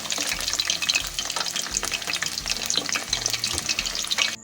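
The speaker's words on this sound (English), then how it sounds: "gently drop your spring roll into the oil and allow to cook at medium-high heat." Nigerian party spring rolls frying in hot oil at medium-high heat, a continuous close crackling sizzle that holds steady throughout.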